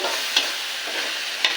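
A spice paste with turmeric and a little salt sautéing in a pan for potato dum makes a soft, even sizzle, close by, with two brief sharper scrapes of a spoon, and no talk.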